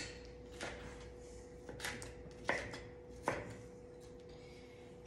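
Knife chopping the second half of a tomato with an unsharpened blade, four separate soft thuds on a board at a slow, irregular pace, quiet against a steady low hum.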